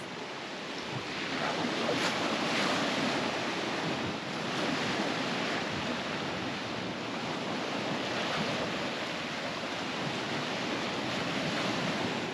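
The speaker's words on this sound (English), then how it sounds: "So while it might look a little violent there in the waves" Ocean surf breaks steadily on a beach where a dinghy sits anchored, a broad continuous roar of waves with swelling surges and wind buffeting the microphone, no voices.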